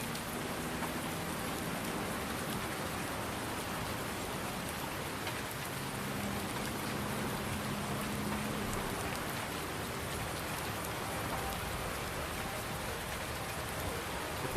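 Steady heavy rainfall in Farming Simulator 19, Seasons mod on the Midwest Horizons farm map, keeps up an unbroken roaring hiss for about fifteen seconds with no voices over it.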